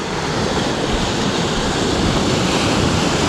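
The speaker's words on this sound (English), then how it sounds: "You can see the swell breaking in here." A heavy sea swell breaks on a rocky reef shoreline on the UK coast, a loud continuous wash of surf mixed with wind rumble and no talking.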